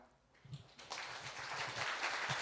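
Clapping begins with a few scattered claps, then swells into fuller applause from a seated audience at a Thai citizen-media live event, growing louder toward the end.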